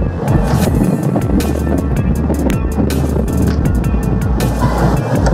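Steady road traffic rumbles along the Buhangin bypass road near an underpass, a dense, continuous wash of engine and tyre noise with occasional sharper passing bursts and no voices.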